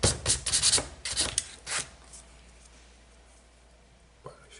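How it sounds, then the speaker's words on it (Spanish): A wooden piece for a small boat's footboard or bench is hand-sanded in several quick rasping strokes, then falls nearly quiet, with one faint scrape near the end. "Vamos a lijarlo por todo"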